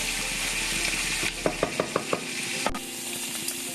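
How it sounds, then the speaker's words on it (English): Prawns fry over medium to low heat in a pan for fried rice, a steady soft sizzle with a short run of quick clinks from stirring and a sharp knock near the end. "Okay, we fry them properly"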